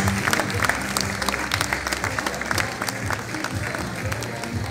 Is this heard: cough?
no